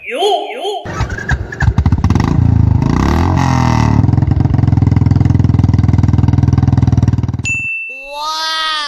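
A newly bought motorcycle fires up on its electric self-start after a short chime. The engine then runs loud and close with a steady rev for about seven seconds before cutting off abruptly, and a voice follows.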